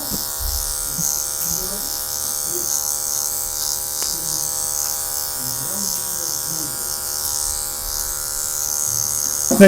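Electric hair clipper buzzing steadily at a barbershop while cutting a zero fade haircut, a constant close hum with faint voices talking in the background.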